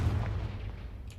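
Confringo spell cast in Hogwarts Legacy, a heavy low blast that booms at the start and then rumbles and fades, loud and close, with no talk.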